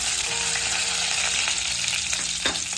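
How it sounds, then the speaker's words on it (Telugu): Chopped onion and green chillies fry in hot oil over a high flame, a loud, continuous sizzle with faint stirring scrapes and no talking. "అదే ఆయిల్ కొంచెం పక్కన తీసేసి ఆయిల్లోనే ఉల్లిపాయ, పచ్చిమిర్చి వేసేసుకోవాలి."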